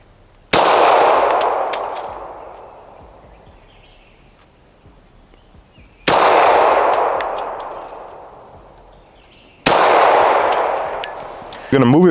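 Three loud, sharp gunshots at an outdoor shooting range, fired slowly and deliberately at a target from about 12 yards, each crack ringing out and decaying over several seconds before the next.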